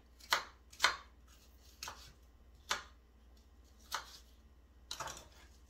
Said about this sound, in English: So I'm just cutting them down like that and then I'm just using a paring knife.